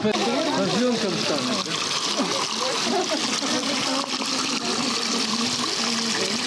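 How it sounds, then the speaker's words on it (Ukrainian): Spring water running from a pipe at a spring near Tustan in Ukraine, a loud continuous splashing flow heard close up throughout, with a voice speaking over it. "Ось так виглядає джерело, друзі."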